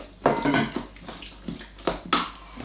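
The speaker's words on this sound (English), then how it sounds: "In go my mushrooms, 250 grams of that." Mushrooms, 250 grams, tipped into a slow cooker pot for a chicken pot roast, giving several close clattering knocks and rattles against the pot with short pauses between them.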